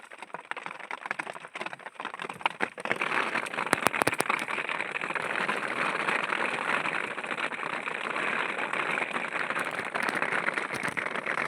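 Heavy rain pouring down on an open farm field, a steady, dense hiss that builds after the first few seconds and then holds loud and continuous.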